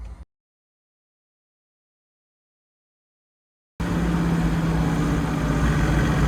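A Datsun fitted with an OM606 diesel engine and a mechanical fuel pump, driving: a short blip, then a few seconds of silence, then a loud, steady close-up engine roar that holds to the end.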